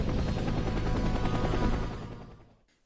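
A loud, continuous helicopter roar in a film scene, with heavy rotor chop and turbulent noise, holding steady before fading away to silence near the end.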